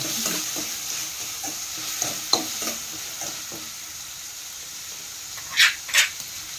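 Vegetables frying with salt and tomato in a pan for a village-style flat bean stir-fry, a steady low sizzle with faint stirring clinks and scrapes, then two louder hissing bursts near the end.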